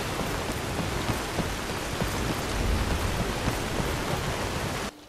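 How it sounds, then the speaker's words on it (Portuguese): Steady rain falls in the video game Skyrim, a dense, even hiss with scattered drops throughout, loud and alone, stopping abruptly near the end. "essa chuva é tão real, que ela atrapalha você falar de tão real que ela é, o barulho dela"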